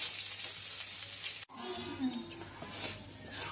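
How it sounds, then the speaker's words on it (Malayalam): Kerala-style beef fry stirred in a pan: a close, steady sizzle with a sharp break partway through, then continued frying hiss and spoon scrapes. "നന്നായിട്ട് ഇളക്കി മൂടി വെക്കണ്ട."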